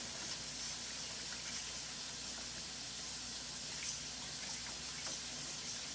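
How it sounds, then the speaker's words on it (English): Water poured into a pan of liver gravy makes a steady, even broadband hiss that holds for the whole stretch without pause, with no voices. "Add a little bit more water."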